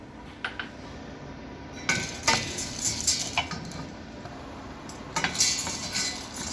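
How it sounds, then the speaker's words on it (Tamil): Roasted gram (pottukadalai) being lightly warmed in a pan for murukku flour, heard as close, intermittent scraping and rattling of the dry grains against the metal, with quiet stretches between bursts. "இப்போ பொட்டுக்கடலை லைட்டாக சூடு பண்ணிக்கலாம்"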